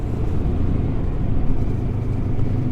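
A Voge 350AC motorcycle engine pulls under steady throttle, a continuous, fairly loud low rumble with a slight rise in drive, heard up close from the rider's seat.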